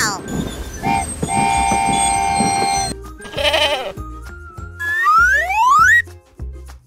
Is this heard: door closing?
no